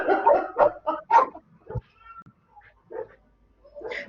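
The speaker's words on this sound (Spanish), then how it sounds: "calla el perrito, por favor" A small dog barks and yips through an open microphone in several short, sharp bursts with pauses between them, close and fairly loud.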